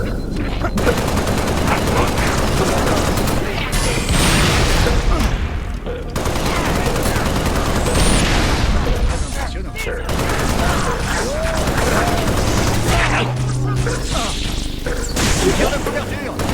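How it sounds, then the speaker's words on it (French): Sustained gunfire from the video game Halo Reach during a night raid on an enemy base, with dense rattling volleys that run nearly the whole time, loud and close, and a few brief pauses and heavier impacts mixed in. "L'ennemi me tire dessus."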